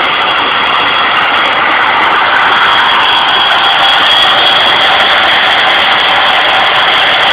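An alternator spinning fast with no load, a loud, steady, unbroken whirring drone that stays constant throughout, close up with no voices.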